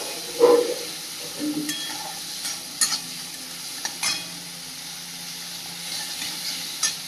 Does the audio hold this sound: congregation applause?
no